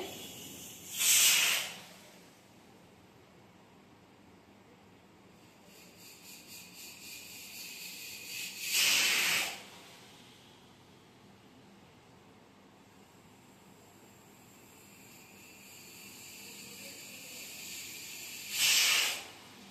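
Steam hisses from a pressure cooker on a home stove in three short, loud bursts spaced several seconds apart, with a quiet background hum between them.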